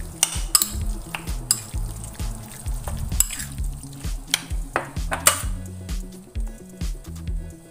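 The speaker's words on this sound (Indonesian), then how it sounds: "aduk sampai tercampur semua bumbu-bumbunya." Eggplant being stirred in a frying pan with a little cooking oil and seasonings for a simple stir-fry, with repeated scraping and clinking of a utensil against the pan over a soft sizzle, close and steady.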